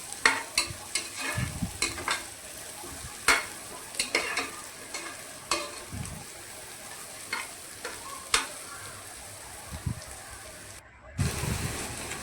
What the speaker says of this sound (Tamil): ஒரு 2 நிமிஷம் வதக்கிக்கலாம்.